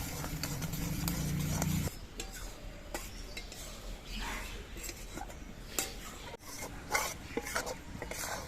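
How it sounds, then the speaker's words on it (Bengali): Spoon stirring sugar syrup in a pan over low heat as it thickens for orange barfi, continuous close scraping and rubbing strokes with light metallic touches. "এবার আস্তে আস্তে জাল দিতে হবে আর নাড়তে হবে চিনির রসটাকে বেশ ঘন করে নিতে হবে"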